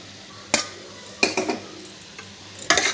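Spoon scraping and clinking in a pan as puffed rice is stirred into ugani, a few sharp separate knocks spaced out over a quiet background.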